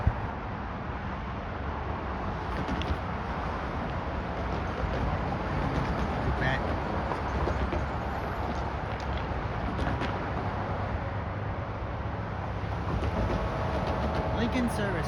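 An Amtrak Lincoln Service passenger train approaching near Springfield, Illinois, a broad continuous rumble and rolling roar that stays steady throughout, with wind noise over the microphone and a voice talking in the background.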